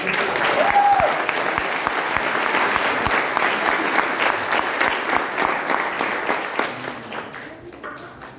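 A seminar audience breaks into loud, sustained applause, dense clapping with a few sharp close claps, a brief voice calling out over it before the clapping thins and tapers off near the end.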